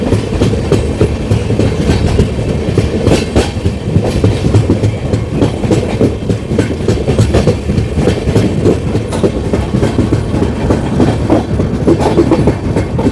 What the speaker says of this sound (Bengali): সুন্দর ট্রেনটা চলছে।